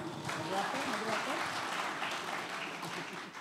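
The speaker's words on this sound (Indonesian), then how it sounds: "Tepuk tangan" A seminar audience applauds at a panel talk, a steady wash of many hands clapping at moderate level with a voice speaking over it.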